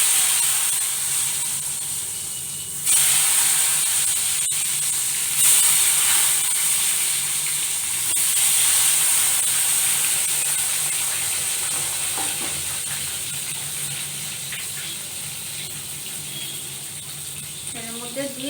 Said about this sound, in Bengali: তেলের মধ্যে দিয়ে আঁচ কমিয়ে কমিয়ে এটা ভেজে নেব।